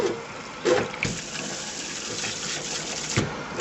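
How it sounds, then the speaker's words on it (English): A tap runs steadily, cold water splashing and hissing over hot cooked spinach in a sink, with a few louder clatters along the way. "I'm going to hit a little cold water over it"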